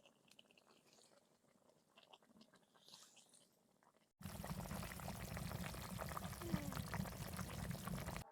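A pot of fish curry with pumpkin lentil dumplings bubbles on the stove, a loud steady hissing simmer that starts abruptly after a quiet, faintly clattering stretch and continues close by.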